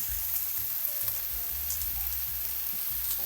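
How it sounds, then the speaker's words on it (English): Tomato paste sizzles with onion and garlic in a hot pan and is worked around it, making a steady, close frying hiss broken by soft scraping stir strokes. No one speaks. "I'll just keep working the tomato paste around the pan just to pick up any of the flavors"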